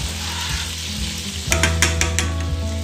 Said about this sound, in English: As you can see, the sauce is nice, boiling up again.